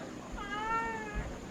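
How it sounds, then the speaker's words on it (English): A cat meows several times in a row at a house full of cats in the Vietnamese countryside, a clear drawn-out cry standing alone and fairly close. "Look at the number of cats here."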